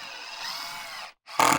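A cordless drill whines steadily as it drives a construction screw into a deck board, stops briefly, then gives a short louder burst of tool noise.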